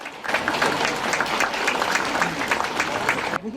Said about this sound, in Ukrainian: По закінченню на подвір'ї свято Троїцького собору звучали оплески.